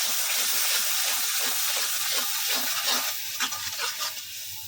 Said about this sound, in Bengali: মশলাটা ভালোভাবে আমি বসাই নেব